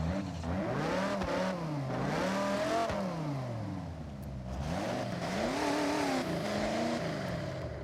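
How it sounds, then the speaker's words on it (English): A stock-engine Corvette revving in the Forza Horizon video game, its engine note rising and falling in repeated throttle sweeps, steady and fairly close with no voices over it. "Is it crazy that it kind of sounds like a Banshee from GTA with the stock engine?"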